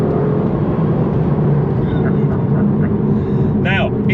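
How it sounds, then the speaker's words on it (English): A 690bhp Aston Martin Vantage V12 drones steadily from inside the cabin, with a low, constant engine roar and a brief change in pitch near the end as it shifts up. A voice talks over it throughout. "That gearbox, the shift on the way up, is just delicious."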